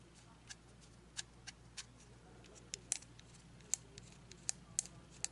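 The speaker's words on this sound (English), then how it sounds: "Start turning that wheel until you hear some clicking." A series of sharp, faint clicks at irregular intervals, small mechanical ticks from a turning adjustment wheel on a CRKT knife, over a low background hum.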